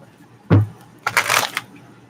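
A deck of tarot cards handled in two short bursts, a thud then a quick riffling shuffle, close and fairly loud, with no talking.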